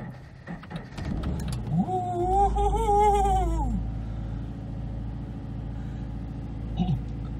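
A Toyota GT-86 high-compression boxer engine struggling to start after sitting 20 days, with a cranking whir, then a rising, wavering catch into a rough idle that settles into a steady low rumble.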